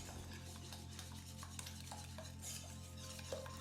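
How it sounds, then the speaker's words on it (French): A whisk beats lemon cream with egg yolks, lemon juice and cornstarch in a bowl, giving a steady, moderately loud scraping and swishing with a low hum running beneath it and no talk. "Ajoutez la fécule de maïs et fouettez vivement pour obtenir une crème plutôt"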